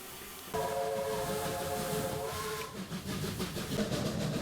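Heritage steam train on the Churnet Valley Railway, heard from inside a carriage: a whistle blows for about two seconds over rhythmic wheel and track clatter that continues after it stops.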